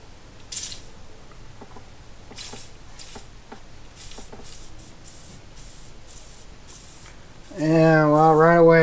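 Compressed air from a hose and regulator set to about 10 psi blasts into a 1993 Evinrude 40hp outboard lower unit during a pressure test, a loud steady hiss starting abruptly near the end after quieter handling noises.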